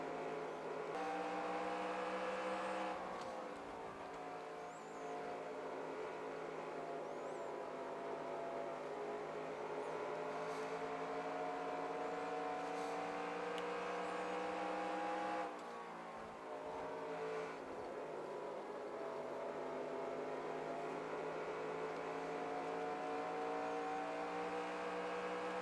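NASCAR race car engine in the NASCAR Racing 2003 game at the MBNA America 400, a loud steady roar with rising and falling revs, two sharp dips where the driver lifts off the throttle and shifts, no talk.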